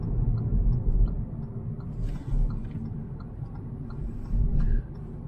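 A Hyundai Verna BS6 diesel with manual gearbox makes a U-turn, heard from inside as a low, steady engine rumble with slight swells in load and faint road noise, no voices over it.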